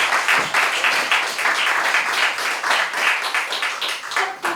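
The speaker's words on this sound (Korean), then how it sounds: "박수로 맞이하겠습니다." A concert audience claps steadily to welcome a tenor on stage, a dense, continuous burst of applause at close range that holds evenly throughout.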